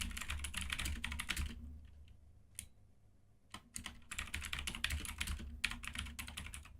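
Rapid typing on a computer keyboard, dense bursts of close key clicks with a brief pause in the middle before the clatter resumes, no voices.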